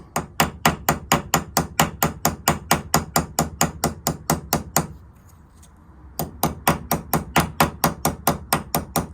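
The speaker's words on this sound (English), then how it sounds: "Lightly tapping it, letting the weight of the hammer do the work." A hammer lightly taps a knife in a steady, rapid rhythm during a knife repair, pauses for about a second, then resumes the same even tapping, close and clear.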